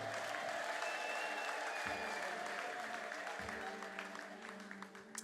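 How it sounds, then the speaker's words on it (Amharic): A church congregation at a worship service claps and cheers in a steady, dense wash of applause with raised voices, holding loud for several seconds before easing slightly toward the end. "እልልታ ጭብጨባ ከፍ አድርጉና"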